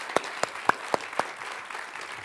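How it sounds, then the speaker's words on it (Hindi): Five sharp, evenly spaced claps at a televised debate on whether India and Pakistan should play cricket, sparse and close, fading into quiet room tone. "आइए मदन लाल जी, तालियों के साथ आप दोनों का बहुत बहुत स्वागत है।"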